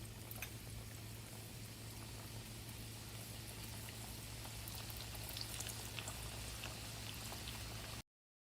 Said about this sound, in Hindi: ये देखिए मैंने डाला है, इसे मैं डीप फ्राई कर रही हूँ और इसे ब्राउन होने तक मैं फ्राई करूँगी।